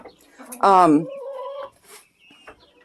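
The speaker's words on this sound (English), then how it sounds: "Just count 8 chickens and 3 ducks" A chicken gives a loud, harmonic squawking cluck, followed by softer clucks and faint chirps from nearby chickens and ducks.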